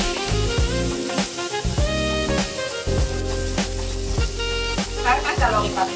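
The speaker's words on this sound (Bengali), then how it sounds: "এখন আমি দিয়ে দিচ্ছি পেঁয়াজ কুচি," Chopped onions hit hot oil already fragrant with cardamom and cloves, giving a steady, close sizzle of frying with occasional stirring scrapes throughout.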